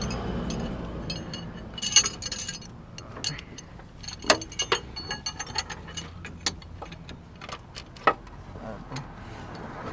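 A ratchet wrench clicks in short uneven bursts while loosening a 14 mm bolt during a serpentine belt replacement on a Honda CR-V, with metallic clinks and faint background noise, no talk over it.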